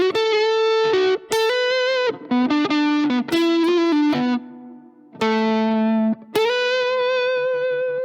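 An electric guitar with distortion and effects plays a lead phrase from a song cover, loud sustained notes with bends and short gaps between them, no voices.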